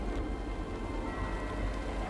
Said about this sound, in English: After more than 12 hours of driving rain and hurricane-force winds, the storm finally begins to die down.